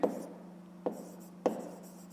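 A pen writes out a math solution on paper in three short bursts of scratching strokes, close and distinct, separated by brief pauses.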